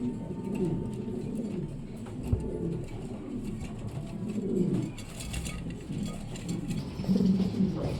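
A pair of Andalusian pigeons cooing nearby, with repeated soft, low, throaty coos rising and falling over several seconds amid faint background noise.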